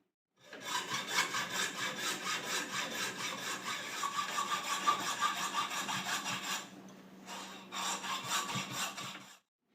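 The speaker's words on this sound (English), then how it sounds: "Clamp it down and saw them off." Deer horns are sawed off an original skull base clamped down, a steady rhythmic back-and-forth rasp of close hand sawing that pauses briefly before a final few strokes.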